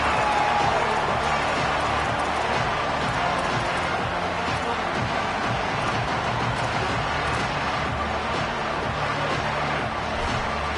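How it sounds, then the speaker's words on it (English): A big video game stadium crowd at a college football game, Florida vs. Auburn, roars steadily throughout, a dense, loud wash of cheering and noise with no pauses. "Listen to this crowd just shaking the girders of this place"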